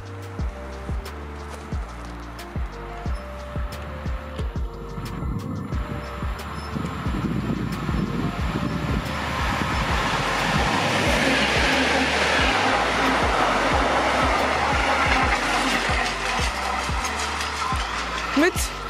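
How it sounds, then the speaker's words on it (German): A freight train passes on the Left Rhine line along the Rhine at Sinzig, with a steady rhythmic clatter of wheels over rail joints that swells into a loud, continuous rolling rumble as the wagons go by. "da kommt der erste Zug des heutigen Tages noch ohne Stativ und wahrscheinlich ein Güterzug"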